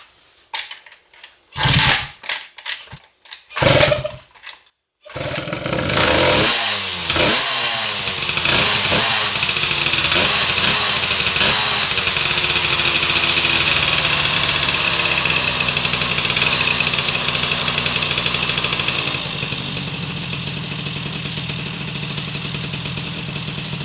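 MBK 51 moped with a two-stroke engine: several sharp bursts of cranking, then the engine catches and settles into a steady, loud, buzzing idle that carries on to the end.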